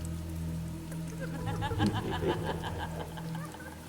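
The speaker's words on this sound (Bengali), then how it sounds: "সুবল কথাটা শেষ করতেই বৃষ্টির শব্দের মাঝখান থেকে খুব ক্ষীণ একটা হাসির শব্দ ভেসে এলো।" Steady rainfall patters on surfaces as a cartoon sound effect, a continuous close shower with a brief faint vocal sound rising midway.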